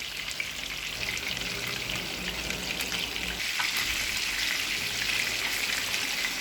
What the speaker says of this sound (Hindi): मीडियम फ्लेम पर कबाब को फ्राई करेंगे।